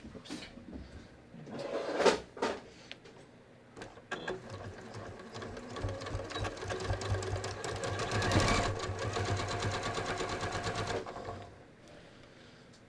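A sewing machine stitches ready-to-wear pants in bursts of rapid mechanical whirring, with a longer steady run in the middle and short pauses between runs.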